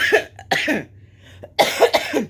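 Two clusters of sharp coughs, a pair near the start and a louder run of three later, up close with brief pauses between.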